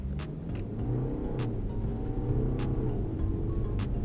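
A BMW 520d xDrive diesel with stability control off and the pedal floored on a snowy winter road: a loud, continuous engine roar that builds as it accelerates, with no one speaking.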